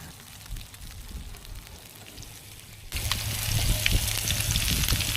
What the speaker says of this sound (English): We're going to get the fish down, let that cook pretty hard on the first side